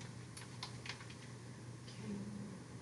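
Quick keyboard typing in a Roblox admin game, a handful of soft key clicks spread over a few seconds against a steady hum of background noise.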